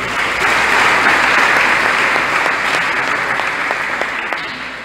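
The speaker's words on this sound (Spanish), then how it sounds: "Un aplauso a tus hermanos." A congregation at an Advent proclamation gathering in Guayaquil, Ecuador, applauds community members, with loud, dense, sustained clapping that slowly tapers toward the end.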